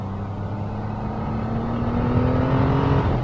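A Triumph Rocket 3 R motorcycle pulls hard under acceleration, its big triple engine droning steadily with a rising tone that climbs and swells in loudness over a few seconds, heard continuously without talk.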